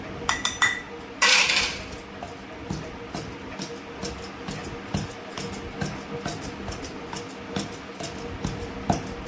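Onions mixed with egg, garlic and chilli powder are pounded and stirred in a mortar, making repeated clinking, knocking strikes in a steady rhythm, close and fairly loud, with a brighter scrape near the start.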